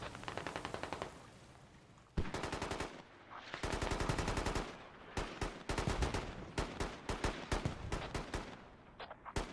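Automatic weapons fire in the Squad video game, sustained machine-gun bursts in close rhythmic volleys, loud and dense, with several pauses between long strings of shots and no talk over it.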